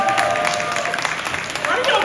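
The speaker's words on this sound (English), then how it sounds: "Why are y'all clapping?" Convention panel audience at a horror film event breaks into brief clapping with crowd noise, heard close and busy beneath voices and chatter.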